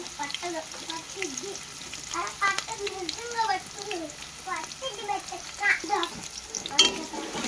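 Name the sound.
onions and green chillies frying in a pan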